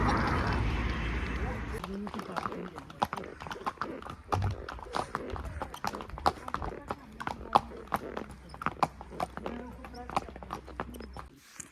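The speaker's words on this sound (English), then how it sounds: "We have taken the horses here and have come all the way up." Horse hooves clip-clop at a walk during a ride up to Naldehra near Shimla, with close, uneven steady beats and a brief whinny, while people talk nearby.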